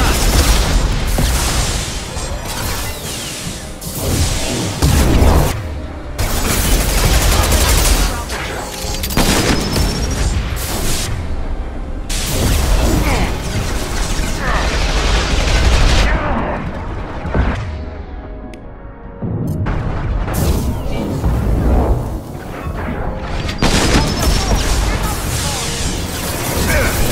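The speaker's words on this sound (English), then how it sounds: "Firing a high-impact shot!" Gunfire and explosions rip through a Mass Effect 2 firefight, with heavy booming blasts and crackling bursts packed densely across the whole stretch, loud and continuous, with game voices calling out between shots.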